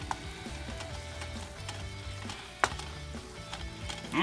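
Ground beef sizzles steadily in a frying pan at close range, with a constant crackling hiss broken by occasional sharp pops and utensil clicks.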